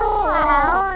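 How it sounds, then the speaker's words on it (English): A cat's eerie, wavering cry rising and falling in a single drawn-out yowl, close and loud, heard alone. "the boys can hear eerie cat cries."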